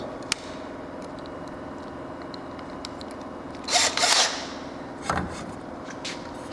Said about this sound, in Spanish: Nos ponemos en la cabeza del remache y muy despacio vamos girando hasta que se suelte la cabeza.